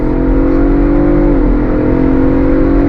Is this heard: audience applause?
no